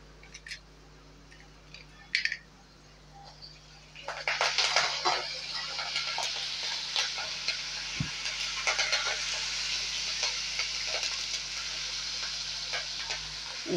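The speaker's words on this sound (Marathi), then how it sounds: "आता ह्याच्यात कढीपत्ता आणि लाल मिरची घालून घ्यायची आहे." Curry leaves and red chillies drop into hot tempering oil for rasam, and after a few quiet clicks a sudden loud crackling sizzle bursts up and settles into a steady spitting fry, with a single dull knock partway through.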